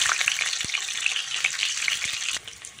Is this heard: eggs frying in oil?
yes